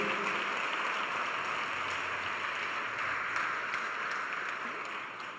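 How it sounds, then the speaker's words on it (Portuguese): A church congregation gives sustained applause, a steady, fairly soft wash of many hands clapping at once that holds evenly for several seconds with no voices over it. "Dê um aplauso a Ele"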